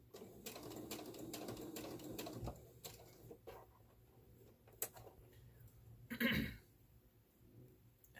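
A sewing machine stitches a fabric mobile phone bag with a neck strap, running over the tucked-in handles in a steady burst of close stitching, then stopping. A few scattered clicks and handling noises follow, with no voices.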